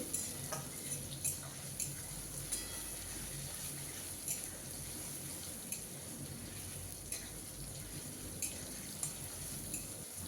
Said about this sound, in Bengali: টমেটো খুব ভালো করে কষিয়ে নিতে হবে